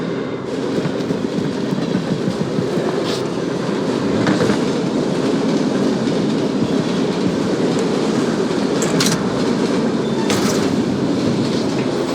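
A VIP transport train in The Ascent rolls past with a loud, steady rumble and rhythmic clickety-clack from the wheels, marked by occasional sharp metallic clanks.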